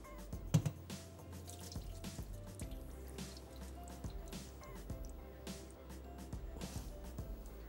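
Half a kilo of rice tipped into hot water in a cooking pot, heard as soft drips, splashes and wet squishing close by, quiet and scattered over several seconds.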